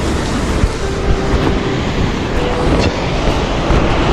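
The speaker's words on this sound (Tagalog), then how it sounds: "Ito yung Mayang Falls." Rushing water at Mayang Falls in Trece Martires, Cavite, a steady loud broadband roar that fills the whole stretch without pause, close by, with no talk over it.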